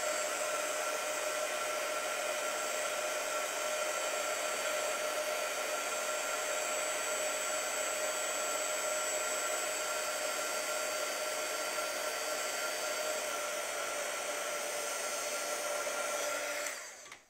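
An embossing heat gun blows steadily and loudly at close range as it heats embossing powder on a card, a continuous whirring hiss that holds unbroken for the whole stretch before cutting off at the very end.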